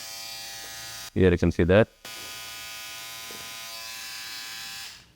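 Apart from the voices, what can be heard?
Philips OneBlade QP2724/10 trimmer running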